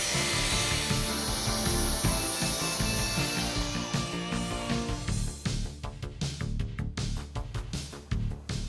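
A slide compound power saw cuts wood, starting with a steady motor whine and then breaking into a run of rapid, sharp cutting bursts close by.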